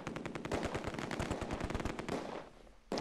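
Sustained MG42 machine gun fire in the World War II strategy game Close Combat II, a dense rapid rattle of bursts with near-continuous shots, cutting off briefly before a final burst.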